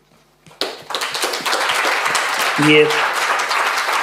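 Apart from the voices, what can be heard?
audience applauding at a congress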